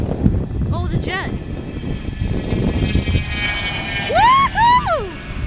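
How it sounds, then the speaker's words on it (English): Jet aircraft flying overhead, a broad rushing roar running throughout and swelling loudest near the end, with sharp sweeping whistle-like tones cutting across it. "Oh, the jet."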